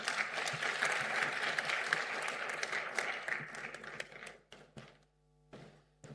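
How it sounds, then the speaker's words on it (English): Audience applause fills a conference hall at a national safe motherhood meeting, a dense, steady clapping for about four seconds before thinning into a few scattered claps and fading. "Another big hand clap"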